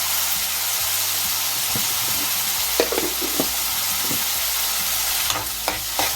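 Onions frying with salt in a pan for a broad bean and prawn curry, a continuous close sizzle with scattered stirring scrapes and clicks, no voices.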